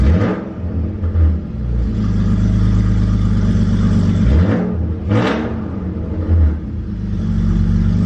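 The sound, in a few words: BMW E46 engine revving after double VANOS rebuild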